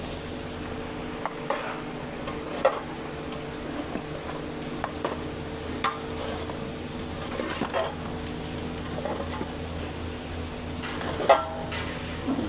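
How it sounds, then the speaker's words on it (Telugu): Chicken biryani stirred in a pot, with soft scraping and light sizzling that continue steadily, broken by a few sharper clinks of the spoon. "మిక్స్ చేసుకుందాం ఫ్రెండ్స్."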